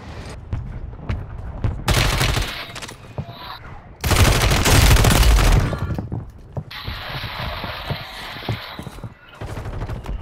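In a Call of Duty-style Resurgence solos match, bursts of automatic gunfire ring out, two loud sustained volleys separated by quieter mechanical clicks and handling sounds, with a lighter rattle near the end.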